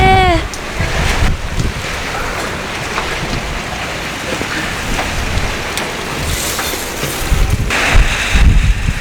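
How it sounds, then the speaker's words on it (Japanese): Strong typhoon wind blowing hard in Kumamoto, a steady loud rushing roar with gusts that swell near the end, buffeting the microphone continuously with no talking. "マジすごい風が吹いてきた。"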